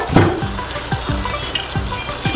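Chicken curry masala with salt is sautéed in a pan, a spoon scraping and stirring in a steady rhythm of strokes over a continuous close sizzle of oil.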